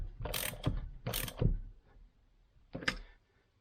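A ratchet wrench tightens a peened nut on a 2010 Kawasaki KX250F transmission, three short bursts of rapid clicking, close and distinct, with quiet pauses between strokes.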